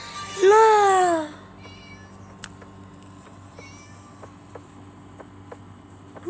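A cat in the video game Scary Teacher lets out one clear, falling meow, followed by a quiet ambient bed of cricket-like chirps and occasional faint clicks.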